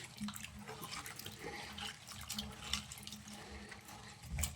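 Tap water runs steadily into a sink while mixed vegetables such as beans, carrots and peas are washed by hand, giving a faint, continuous splash with occasional louder sloshes nearby.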